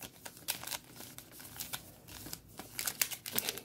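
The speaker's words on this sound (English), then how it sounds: "Now, three more packs. We're going to shuffle them and then we're going to open it." Dragon Ball Super booster pack wrappers crinkle and tear in close, irregular bursts, with brisk rustling that grows busier toward the end and no talk over it.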